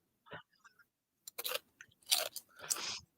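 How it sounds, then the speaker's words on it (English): Tostitos tortilla chips, a pepper and tomato flavour, munched at a sports game, giving a few crisp crunching bites in short bursts, fairly close and alone. "What are you munching on?"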